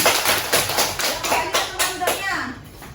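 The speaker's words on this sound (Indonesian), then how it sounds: "Kelompok Pandawa, ayo kasih tepuk tangan." Children clap together for a group presenting in an elementary school classroom, a lively burst of irregular applause that runs for a few seconds before tapering off, with young voices mixed in.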